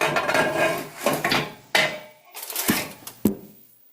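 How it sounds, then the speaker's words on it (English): Vegetables served onto a plate with a spoon at home: several close, sharp clinks and knocks of spoon on dish and pan, with scraping in between, over about four seconds. "now I'm gonna serve myself some vegetables"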